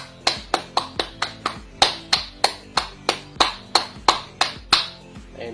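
A run of about fifteen sharp hand claps at a steady, fairly quick rhythm, close and crisp, each with a short ring-off, near a microphone sensor on a Kto12Bot robotics kit.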